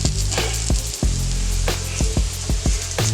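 Sirloin tips and potatoes fry in a steel pan, a loud, close, continuous sizzle broken by repeated clinks and scrapes of stirring.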